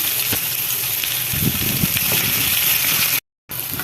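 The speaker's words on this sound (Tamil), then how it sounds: "கருவேப்பிலை வெங்காயம் போட்டலாம் வெங்காயம் கொஞ்சம் வதங்கட்டும்" Curry leaves and onion frying in a pan for a brinjal kuzhambu, a steady broadband sizzle with faint crackles, close and continuous apart from a brief silent gap.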